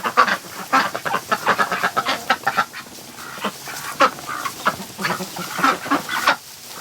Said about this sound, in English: the Muscovies have decided to make that their place to hide now